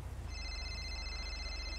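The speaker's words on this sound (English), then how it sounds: "Somebody's phone's ringing." A phone rings with a steady electronic ringtone tone, moderately loud over a low background rumble in a game-world scene.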